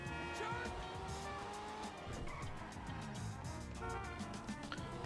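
GTA V car engine revving steadily with tires skidding and squealing, plus background game music throughout.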